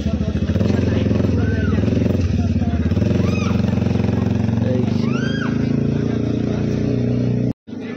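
Motorcycle riding past during a New Year celebration with friends, a continuous close engine drone with several quick revving swoops, under excited voices.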